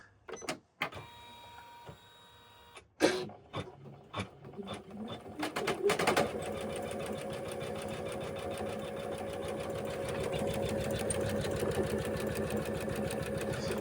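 An embroidery machine starts up with a few clicks and clunks, then settles into a fast, steady mechanical stitching rhythm as it sews a design in a hoop for an embroidered portfolio.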